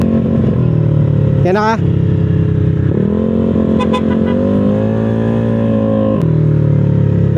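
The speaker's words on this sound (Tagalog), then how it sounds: "okay na okay yung takbo ng NMAX niya" Yamaha NMAX scooter running in stock form, its steady engine drone continuous and close throughout, with brief revs and someone talking over it.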